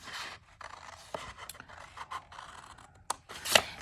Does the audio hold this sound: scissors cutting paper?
yes